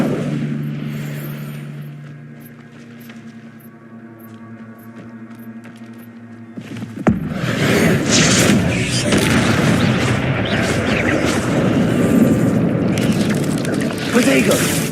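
A fire spell cast in Hogwarts Legacy bursts in loudly, turning a low humming backdrop into a sustained roaring, crackling blast that continues to the end.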